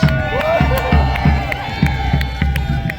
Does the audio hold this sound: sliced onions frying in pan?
no